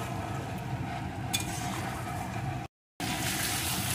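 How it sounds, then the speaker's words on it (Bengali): Fried potato and cauliflower cooking in spice paste in a pan, a close steady sizzle with faint stirring scrapes and a brief gap of silence. "আলু ফুলকপিটাও মশলার সাথে কিছুক্ষণ আমি কষিয়ে নেব।"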